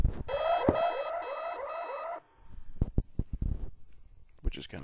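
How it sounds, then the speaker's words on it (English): A brewday timer program's default alarm rings out as a bright, repeating warbling chirp, about four quick cycles over two seconds, then stops abruptly, followed by scattered handling knocks and clicks. "I normally just use this sound, which is the default alarm"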